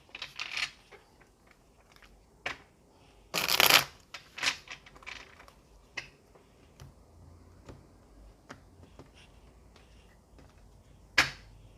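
Tarot cards are shuffled by hand in a few short, soft riffling bursts separated by quiet gaps and light taps.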